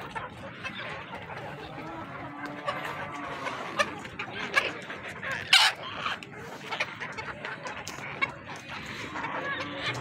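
Golden Misri hens on a farm clucking and calling close by, with a rooster-like crow and scattered sharp squawks over a busy background, and a person talking faintly at times.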